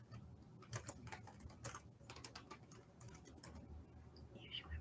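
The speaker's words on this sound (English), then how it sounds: "give me 1 second just to type this up real quick." Faint clicking of keys on a computer keyboard comes in uneven quick runs and pauses, soft and close, with low background hum.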